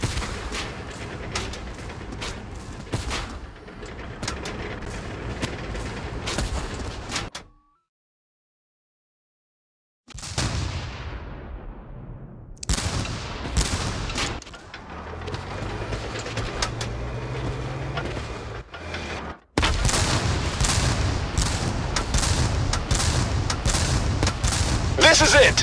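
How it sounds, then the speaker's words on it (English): Gunfire and explosive blasts in the video game Tank Force, dense and continuous bursts with a brief silent gap midway, loud and busy throughout. "We are under gunfire."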